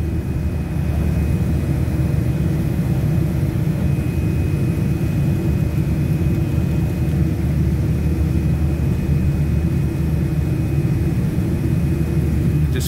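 A Boeing 787-8 airliner accelerates down the runway for takeoff, heard from inside the cabin as a loud, constant roar of jet engines and deep rumble, unbroken throughout with no voices.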